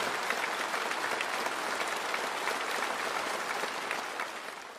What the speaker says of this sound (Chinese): 全场起立，报以热烈掌声